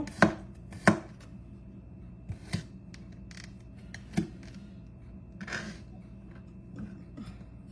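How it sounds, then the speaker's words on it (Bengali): Garlic is chopped finely with a knife on a board, sharp separate chops at an irregular pace, some close together, with quiet pauses in between. "রসুনটাও কুচি করে নেব।"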